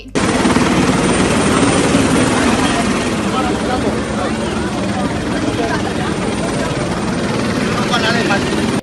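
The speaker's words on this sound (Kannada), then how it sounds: "ಅರವತ್ತಕ್ಕೂ ಹೆಚ್ಚು ಶಾಲಾ ಮಕ್ಕಳಿಗೆ ಉಚಿತವಾಗಿ ಹೆಲಿಕಾಪ್ಟರ್ ಹೆಲಿಕಾಪ್ಟರ್ನಲ್ಲಿ ರೌಂಡ್ಸ್ ಹಾಕಿಸಿದ್ದಾರೆ" Loud, steady helicopter rotor thumping fills the whole stretch, close and continuous, with a faint voice underneath, during joyrides at the Hampi Utsav festival.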